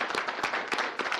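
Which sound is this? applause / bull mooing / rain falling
applause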